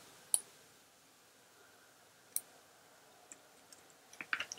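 Sparse, faint keyboard clicks from someone typing commands on a Mac computer, a few isolated taps followed by a quick cluster of keystrokes near the end, in a quiet room with no talking.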